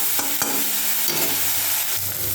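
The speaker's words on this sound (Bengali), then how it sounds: "পুরোটাকে আমি ভালো করে ভেজে নেব।" A spice mix with turmeric fries and sizzles loudly in a pan for a fish curry, with a steady hiss broken by a few stirring scrapes and no voices.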